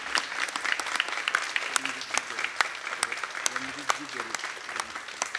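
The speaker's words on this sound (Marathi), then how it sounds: "एकदा जोरदार टाळ्या या माऊलीसाठी." An audience at a public event in Pandharpur applauds the director of Nadbrahma Sangeet music academy, a dense, continuous round of clapping with sharp individual claps standing out, while a voice speaks briefly underneath.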